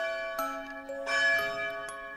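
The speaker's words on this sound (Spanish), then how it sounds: "Las campanadas de misa de las 5 la despertaban." Church bells ring for five o'clock mass, with about three clear metallic strikes spaced irregularly and long shimmering overtones hanging between them, moderately faint and with no voices.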